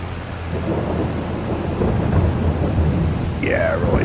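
Steady rain and rolling thunder from a storm in the farming game Farming Simulator 22, a continuous loud wash of rainfall under deep rumbles, with a brief whistling tone near the end.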